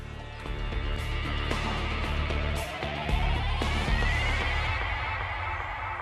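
A horse neighs loudly and close by, a drawn-out whinny over a steady low rumbling background.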